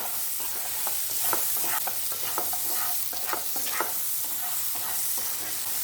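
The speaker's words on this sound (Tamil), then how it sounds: "அந்த மசாலாவோட நல்லா மிக்ஸ் பண்ணி விடுங்க" Potatoes tossed and stirred with masala in a hot pan for a Tamil potato fry, a steady sizzle broken by repeated scraping strokes of the spoon, close up and with no one talking.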